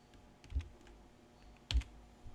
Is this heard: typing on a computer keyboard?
yes